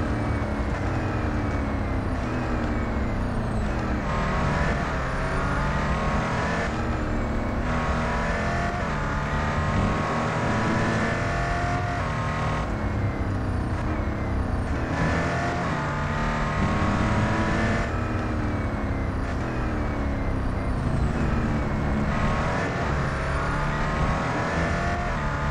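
In Real Racing 3, a Koenigsegg One:1 race car's engine roars loud and close, rising and falling as it accelerates, shifts gears and brakes through the corners of a lap.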